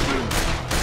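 Short rapid bursts of gunfire in the Like a Dragon Gaiden video game, loud and close, with two or three quick cracks inside a single second.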